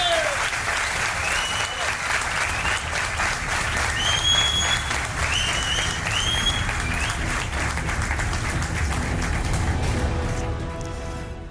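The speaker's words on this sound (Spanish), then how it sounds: "Un aplauso para que nos sientan en toda España y en el mundo" Sustained audience applause fills a gathering in Belmez, Spain, dense steady clapping from a crowd that keeps going for the whole stretch, with a few whistles cutting through and the clapping tapering slightly at the end.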